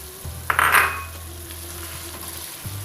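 A spoon stirs a thickening sweet and sour sauce with cornstarch for gourami in a pan, with a brief burst of bubbling sizzle early on, then a low steady simmer that fades near the end.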